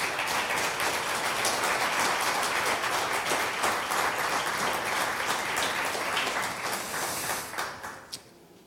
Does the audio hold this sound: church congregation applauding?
yes